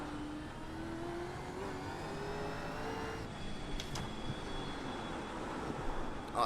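Gen 3 V8 Supercar in iRacing on a wet, slippery Sandown circuit, its engine holding a steady droning note that rises and falls through the gears, with a brief sharper burst midway, constant and alone with no talk.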